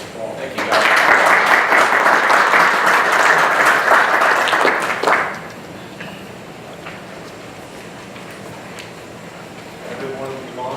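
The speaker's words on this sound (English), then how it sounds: "let's give them a round of applause" A room at a county commissioners meeting breaks into sustained applause for staff, a dense, loud burst of clapping lasting about five seconds before fading into quiet room tone and murmuring.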